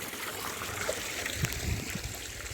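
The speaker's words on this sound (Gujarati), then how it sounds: "મસ્ત પાણી જઈ રહ્યું છે સ્વચ્છ અને ફુવારા પણ ચાલુ જ છે" Irrigation water flows through a potato field with sprinklers running, making a soft, continuous trickling and gurgling close by with no talk.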